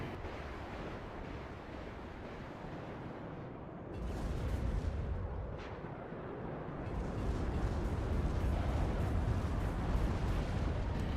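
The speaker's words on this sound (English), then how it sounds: "TOW 2 doing a number on these tanks here." TOW 2 missiles and artillery slam into tanks in the war strategy game WARNO, making a heavy, roaring barrage of blasts that swells louder partway through and stays dense to the end.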